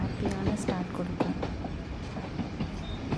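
Nilgiri toy train running between Coonoor and Ooty, a steady rumble of the carriages with rhythmic wheel clatter and faint squeal, continuous and fairly close throughout, with indistinct voices of passengers mixed in.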